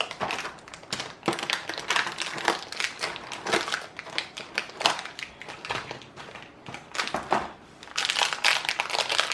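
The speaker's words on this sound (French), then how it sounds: "On va ouvrir les 5 petits sachets." Small sealed opaque plastic packets of Disney Doorables being torn open one after another, giving close, dense crinkling and crackling bursts in irregular clusters, fairly quiet and with no speech.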